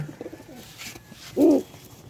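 A pigeon in a loft coos once, close and fairly loud, a short, rounded throaty call rising out of quiet background rustling near the end of a brief moment.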